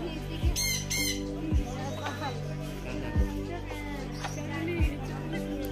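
Birds in the bird section of Nandankanan zoological park in Bhubaneswar give several loud, sharp squawks at irregular intervals, with people talking and a murmur of visitors in the background.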